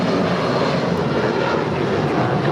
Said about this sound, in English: That was United 2259 departing to Newark Liberty, a 27-year-old 757-200